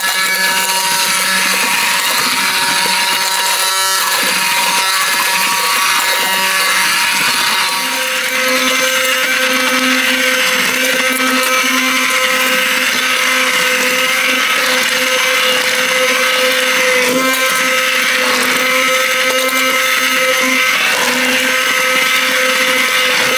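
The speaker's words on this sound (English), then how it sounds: "So let's go ahead and put the blender in and mix these up." Immersion blender mixing cooked apples inside an Instant Pot, a loud, continuous whirring buzz lasting the whole time, with a short shift in tone partway through as the blade moves through the fruit.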